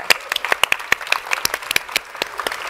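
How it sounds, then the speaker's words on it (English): Sparse applause from a small audience at a Web3 pitch fest, a few distinct hand claps in an irregular, fairly close rhythm over under three seconds. "a round of applause."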